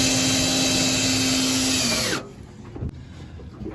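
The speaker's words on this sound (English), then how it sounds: "Okay, screw this down." A power drill drives screws to fasten a generator down aboard a sailboat, a steady loud whine running about two seconds before cutting off, leaving quiet shuffling and a single sharp knock.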